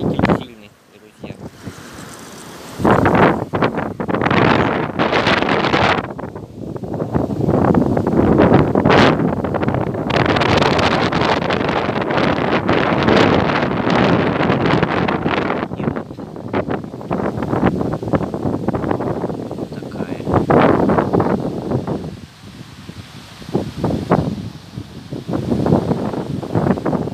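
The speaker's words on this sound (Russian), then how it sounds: "ветер сильный, друзья" Strong outdoor wind buffeting the microphone in heavy, roaring gusts that rise and fall throughout, with a person speaking at moments beneath the rumble.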